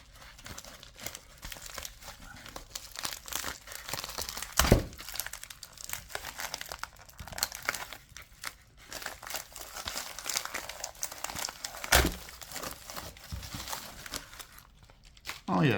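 Paper crinkling and tearing as a mail envelope holding several trading cards is handled and ripped open, with rustles and a couple of sharp rips, close up and heard under ongoing talk.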